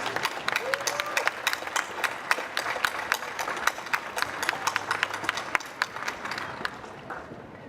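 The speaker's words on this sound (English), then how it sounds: "Give them applause." Audience applause at a Star Wars convention panel for 501st Legion costume members, a steady crowd of scattered claps running several seconds before fading out.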